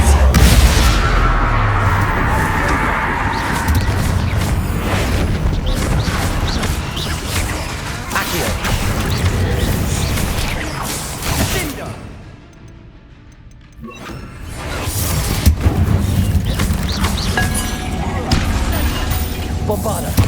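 Bombarda blasting spells go off in a tomb in the video game Hogwarts Legacy, dense crashing bursts and rumbling booms filling the scene, briefly dropping away midway before the clamor resumes, mixed with game voices.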